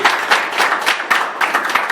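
Audience applause at a community presentation, a brief burst of dense, close clapping with uneven surges.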